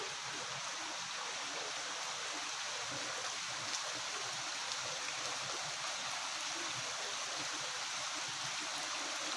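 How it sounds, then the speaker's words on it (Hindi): Heavy rain pours down in a steady, dense hiss that never lets up, even and moderately loud with no voices over it. "बहुत तेज़ बारिश हो रही है पर दिख ही नहीं रहा है।"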